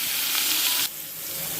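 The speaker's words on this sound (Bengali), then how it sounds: "ডাঁটাটা ভেজে নেব।" Vegetable stalks and potato frying in hot oil make a loud, bright sizzle that drops abruptly partway, then a steady softer hiss continues nearby.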